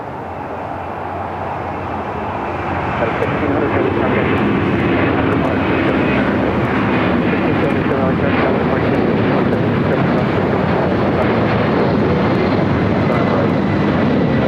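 A jet airliner taking off at Los Angeles International Airport, its engine roar building from a quieter start into a loud, sustained, broad rushing thunder that holds steady to the end.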